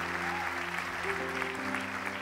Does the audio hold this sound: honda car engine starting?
no